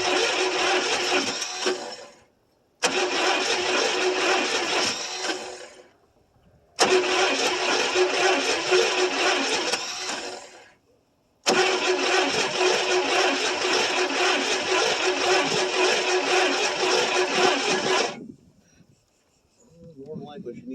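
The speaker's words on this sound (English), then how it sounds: "That's that kind of wants to fire." A 1974 International pickup that sat about 25 years cranks over in four long bursts separated by pauses, the starter churning steadily and the engine nearly catching, with someone speaking faintly between attempts.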